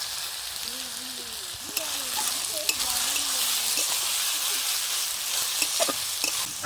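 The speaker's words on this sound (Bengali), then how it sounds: "আমরা ততক্ষণ পর্যন্ত কষাবো যতক্ষণ থেকে মশলার কাঁচা গন্ধ না যায়।" Masala with chopped tomato being sautéed in a pan for chicken kanti, a steady close sizzle with scraping stirs throughout and a faint voice humming or talking low in the background.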